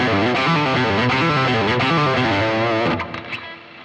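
Distorted electric guitar played legato while the palm mutes the other strings, a quick flowing run of smooth connected notes for about three seconds, then a few muted plucks fading out, close and loud with no talking.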